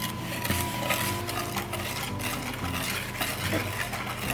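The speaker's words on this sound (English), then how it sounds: "Let's whisk the eggs into the sugar." Eggs being whisked into sugar in a bowl for a spiced pear bundt cake: a steady, close scraping and swishing that runs continuously with a faint hum beneath, and no voices.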